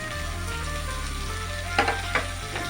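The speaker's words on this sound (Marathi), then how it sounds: "आता आपण कांदा टाकूया कापून घेतला आहे तो आणि कांदा पण तेलात नरम होईपर्यंत परतून घेऊ" Chopped onion sautéing in hot oil after garlic for a taro-leaf dish, a steady sizzle with a few sharp scraping stirs near the end, under a low background hum with no talk.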